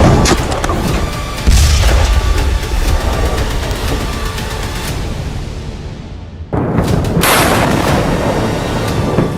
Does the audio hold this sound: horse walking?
no